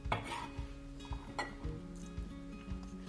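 A knife chops cabbage into large pieces on a board, irregular thudding cuts with light clinks of kitchen utensils, fairly close and quiet.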